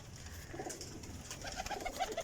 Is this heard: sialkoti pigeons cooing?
yes